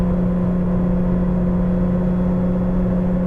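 A 1983 Porsche 911 3.2 accelerating gradually uphill at half throttle, its engine giving a steady, loud droning hum with a strong constant tone and little change over a few seconds.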